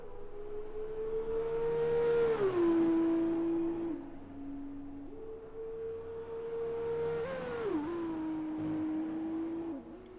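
An F2 single-seater in F1 2020 at Melbourne holds a high, steady engine whine, then drops sharply through the gears from sixth to third, the pitch stepping down each time. The pattern repeats twice, loud and alone.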